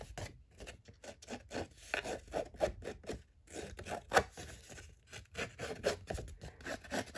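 Paper edges are distressed by hand for a junk journal pocket, producing close, repeated scratchy rubbing strokes in an uneven rhythm.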